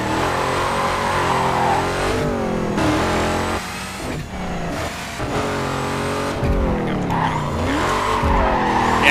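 A video game police car engine roars at speed on a highway in Need for Speed Carbon, pitch rising and falling through gear shifts, with intermittent tire squeal, loud and close throughout.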